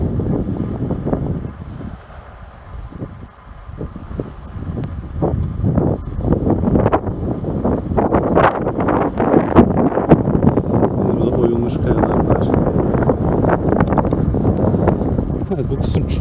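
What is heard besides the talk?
strong wind blowing at a seaside walking path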